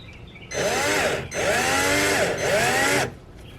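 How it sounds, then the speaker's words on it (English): An electric drill bores into a plastic and metal fuel pump assembly for an auxiliary pump install on a 2015 Chevy SS with a supercharged LSA, whining loudly in three close bursts with brief dips between. "we're gonna use an electric drill"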